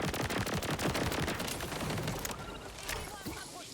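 Rapid automatic gunfire from a weapon in the shooter game Borderlands 4, a dense, loud, continuous burst of shots that thins out toward the end.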